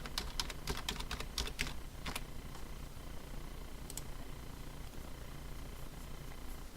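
Computer keyboard typing as a VPN pre-shared key is entered: a quick burst of clicky keystrokes, then a few scattered presses over a steady low hum, with no voices.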